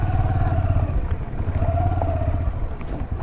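A motorcycle rides along a road toward a waterfall in Kanrach, Balochistan, with a steady close engine rumble mixed with wind buffeting, no voices.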